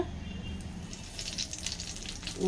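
Stuffed eggplants frying in a little oil in a pan give a soft, steady sizzle with faint crackles, quiet and close.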